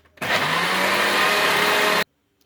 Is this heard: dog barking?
no